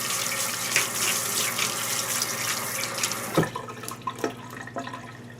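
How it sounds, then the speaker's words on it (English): Hands rinsed under a running kitchen tap while making onion and garlic focaccia, water splashing steadily and fairly softly with uneven spatters and a few drips toward the end. "just rinse my hands"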